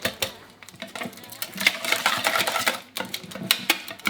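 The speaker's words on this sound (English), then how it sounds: "we're just going to mash them up" A fork mashes ripe bananas in a bowl for banana bread: irregular soft squelches and scraping taps against the bowl, close and continuous, with no talk.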